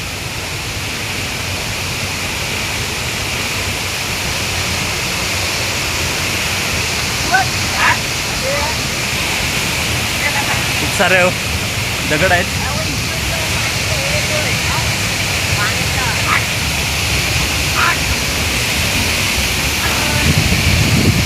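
A waterfall spills beside a hidden cave in a rocky, stony spot with a cold wind blowing, making a steady, full roar of falling water throughout while someone talks over it now and then.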